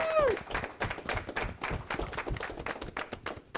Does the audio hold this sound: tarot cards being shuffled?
no